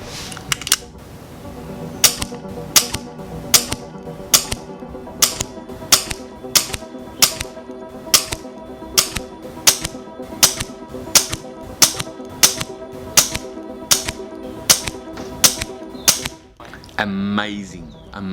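A Brocock Concept XR Lite air rifle firing JSB Jumbo Exact pellets gives a long, steady series of sharp, evenly spaced cracks over a faint background hum, ending in a brief rustle.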